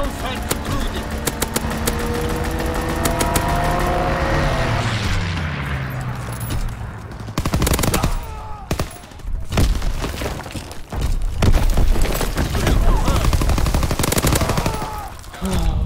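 Type 95 gunfire in a shooter game, loud repeated shots and bursts over a busy mix of game sound, some impacts and clatter mixed in, close and continuous.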